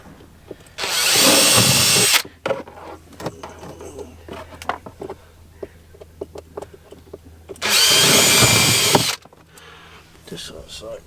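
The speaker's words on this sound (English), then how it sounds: "So I'm literally just going to drill 2 holes" A power drill bores holes through the bottom of a boat, running in two loud sustained bursts separated by quieter handling noise and clatter, close to the listener.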